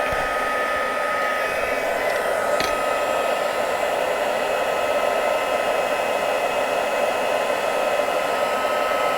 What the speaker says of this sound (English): So I'm just going to heat emboss this now.